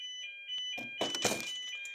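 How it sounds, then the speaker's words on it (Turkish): An electronic alarm tone sounds with steady high pitches inside a building with an elevator, then muffled thumps and clatter swell over it near the end, moderately loud and close. "Alarm çalsa. Aa! Çok yakından geliyor."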